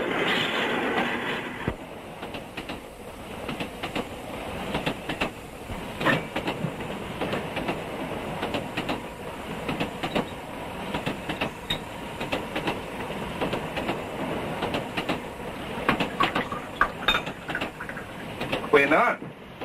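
A passenger train bound for Johannesburg runs steadily, with continuous rumble and rhythmic wheel clatter filling the whole stretch, with speech mixed in over the noise.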